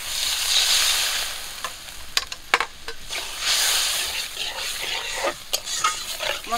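Spice masala for a Bengali tangra fish curry frying in a pan as water goes in, a bright hissing sizzle with a few sharp crackles and bursts, near and loud with no talk.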